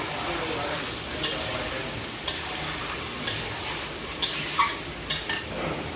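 Chicken meat fries in a pan with ginger and onion paste, a constant sizzle broken by regular scraping strokes of a spoon stirring the pan every second or so.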